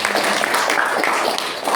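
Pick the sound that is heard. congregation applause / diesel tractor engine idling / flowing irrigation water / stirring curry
congregation applause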